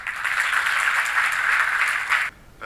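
Applause for a guest speaker at a civic ceremony, a steady dense wash of clapping for about two seconds that cuts off abruptly, leaving near silence.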